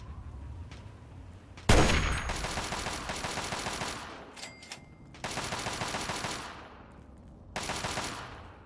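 Sustained bursts of gunfire from a long-range gun in Fallout 3, three loud rattling volleys separated by brief lulls, fairly close and with no talk over them.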